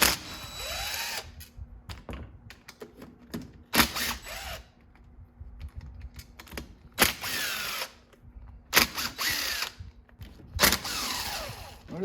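A power tool, a drill or ratcheting driver, removes the bolts of an engine's reed cage in short whirring bursts with pauses between them, close and fairly loud, with no speech.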